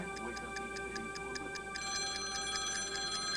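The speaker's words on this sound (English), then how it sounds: "Cheryl and Paul Chapman were awakened by a phone call." A telephone rings with repeated electronic trills in a steady pulsing pattern, heard faintly under a constant background tone as an early-morning call comes in.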